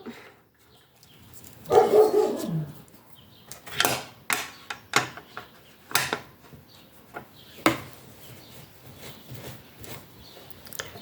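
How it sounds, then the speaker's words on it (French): A dog barks through an open window at people passing outside, with a drawn-out bark near the start and then a run of sharp single barks spread across the rest, moderately close in a quiet room. "j'ai la fenêtre ouverte et mon chien se met à aboyer"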